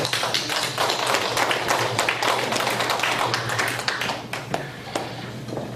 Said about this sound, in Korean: 박수로 환영할게요.